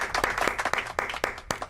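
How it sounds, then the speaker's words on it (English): A brief patter of clapping from a small audience, individual claps distinct and uneven over a couple of seconds, fairly close and moderately loud. "Let's get an applause for that."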